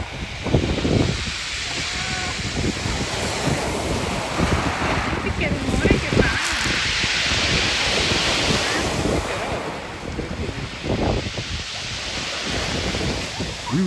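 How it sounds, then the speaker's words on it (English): Sea waves roll and wash over round black volcanic stones on a Santorini beach, a loud continuous surf with repeated surges and retreating rattles, buffeted by wind noise on the microphone. "round black volcanic stones which, rolling in the ebb and flow of the waves of the crystalline sea, generate a relaxing and almost hypnotic atmosphere"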